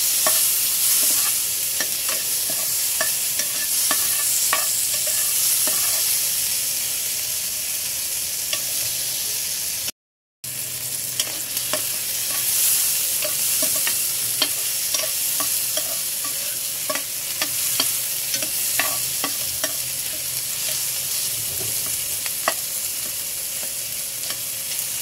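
Sardines sauté in hot oil in a pan, giving a steady, loud sizzle and crackle with frequent small pops and occasional stirring scrapes, continuous with no talk apart from one brief gap.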